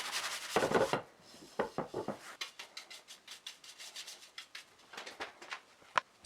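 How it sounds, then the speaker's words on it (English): Light hand sanding of a varnished wooden frame built from oak planks, a series of short rasping strokes in a steady rhythm, close and fairly quiet, with a brief pause between bursts. "Some light sanding."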